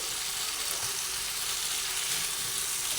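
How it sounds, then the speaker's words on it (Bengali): Pumpkin stirred and cooking in a pan on a gas flame, a steady, even hiss of frying with no breaks, moderately quiet and unaccompanied. "আমি এটা নাড়াচাড়া করে রেডি করে নিচ্ছি কুমড়োটা কিছুটা সেদ্ধ করে নিচ্ছি"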